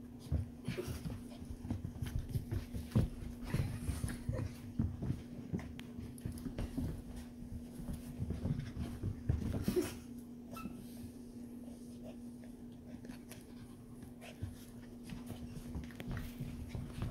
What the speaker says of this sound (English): They're so fast to be pudgy little puppies.